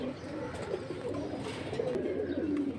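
Pigeons coo close by at a pigeon market, soft repeated throaty calls overlapping over a steady murmur of background bustle, with no clear speech.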